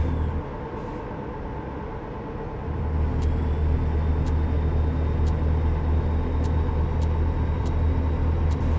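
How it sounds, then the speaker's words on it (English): Rhythmic turn-signal ticks from a truck in American Truck Simulator, sounding as a steady series of sharp, evenly spaced clicks over a continuous low engine rumble. "There's my turning signal."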